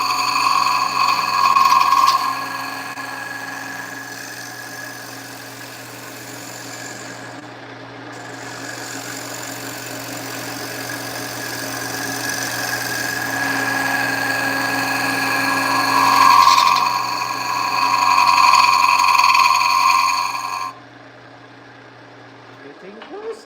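Wood lathe turning a segmented wooden bowl: a steady motor drone with a constant tonal hum and faint tool scraping runs close and continuous, swelling slightly near the end before cutting off abruptly.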